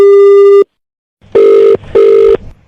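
A landline telephone rings in a home: one sustained tone burst, a pause, then two more evenly spaced ring bursts, loud and close, with no voices.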